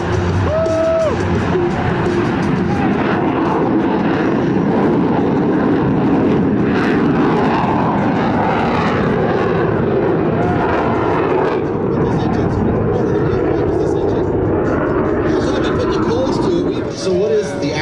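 Lockheed U-2 Dragon Lady, ER-2 variant, at Travis AFB, a loud sustained jet engine roar filling the scene continuously, with people talking and crowd murmur underneath.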